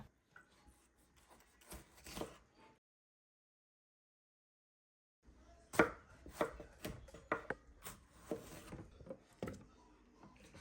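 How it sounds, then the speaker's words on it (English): Fresh tomatoes being chopped with a knife on a board, sharp close chops in quick bursts, a gap of silence in the middle, then a faster run of cuts. "I'm going to also chop some fresh tomatoes and roughly blend it."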